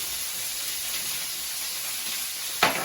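Rice noodles sizzle steadily in a hot pan as they are turned, a constant bright frying hiss with a brief sharper burst near the end; no one speaks.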